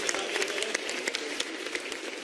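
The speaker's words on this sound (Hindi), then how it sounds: "राष्ट्रीय अध्यक्ष आदरणीय जेपी नड्डा जी, एक बार जोरदार ताली बजाकर माननीय राष्ट्रीय अध्यक्ष जी का स्वागत और अभिनंदन।" Rally crowd in Jaipur clapping to welcome a party president, fairly faint, fast irregular applause heard from a distance as a steady patter.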